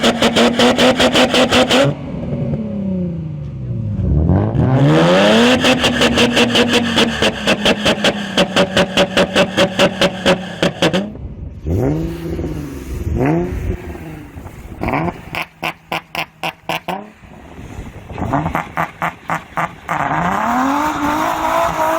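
An Infiniti G35 exhaust revs loudly again and again, first with the stock setup and then with a Mustang Roush muffler fitted, rising and falling in sharp sweeps with bursts of rapid blips and no talk.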